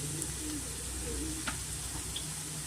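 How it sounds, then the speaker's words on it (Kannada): Peas sizzle and fry in a pan of spicy mushroom pepper curry over a medium flame, a steady close hiss with a few faint clicks and a brief stir. "ಬಟಾಣಿ ಸೇರಿಸ್ಕೊತಾ ಇದ್ದೀನಿ ಸ್ವಲ್ಪ ಇದು ಫ್ರೈ ಆಗಲಿ"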